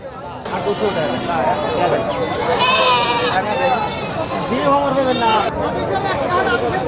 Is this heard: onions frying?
no